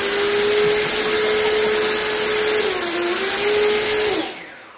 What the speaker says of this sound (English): And it's a casing or a housing for my ducted fan.